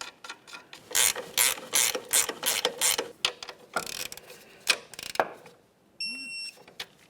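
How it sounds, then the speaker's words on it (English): A ratchet tightens the sway bar link nut on a 2009-2010 Pontiac Vibe front strut, making loud, close bursts of rapid clicking in quick repeated strokes, then a brief quieter pause with a faint electronic tone. "Start on the nut, bottom it out, torque that to 55 foot-pounds."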